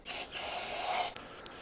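Brake cleaner sprays from an aerosol can onto an engine block in a one-second hissing burst after a short opening puff, followed by two faint ticks.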